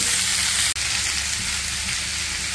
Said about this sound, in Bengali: খুব ভালো করে আমি ভেজে নিচ্ছি ফুলকপিটা